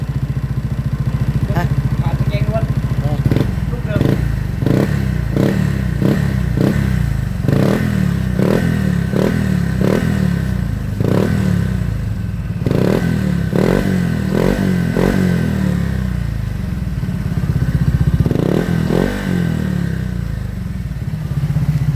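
A Honda Giorno scooter with a KKD aftermarket exhaust idles with a deep, throaty burble, punctuated by repeated short revs and blips of the throttle, close and loud.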